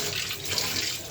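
A kitchen tap runs steadily while kitchen items are washed, a close, continuous splashing stream of water with no voices.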